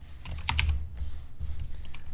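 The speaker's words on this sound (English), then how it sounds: "I'm literally going to be typing it as they display it on here" Rapid typing on a computer keyboard, a steady run of close, crisp key clicks with a few sharper strikes, and no voices.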